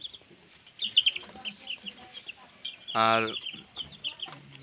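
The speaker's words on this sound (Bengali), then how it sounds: "দেখেন খুব সুন্দর মুরগি কিন্তু এগুলো, দেখুন এই দেখেন লাফালাফি করতেছে" Broiler chickens cluck and squawk in a cage, with one loud, harmonic squawk standing out near the middle among scattered softer clucks and rustling, while someone speaks briefly.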